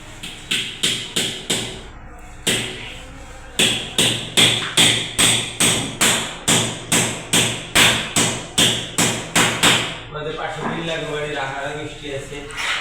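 Wire being snipped while assembling the angle-and-grid frame of a false ceiling, heard as a fast, steady run of sharp, close clicks, about twenty in a row with a short pause early on, before a voice starts talking.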